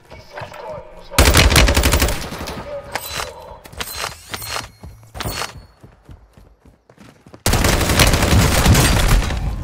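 Gunfire in the shooter game Warzone 2: loud bursts of automatic fire with rapid rhythmic shots, broken by short gaps and scattered single reports, then a sustained heavy burst to the end, close and dominant.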